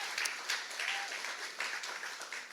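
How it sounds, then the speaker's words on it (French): Brief, faint applause from a church congregation during a sermon, a soft wash of clapping with a few sharper claps standing out, heard from a distance. "Vous voulez pas l'applaudir?"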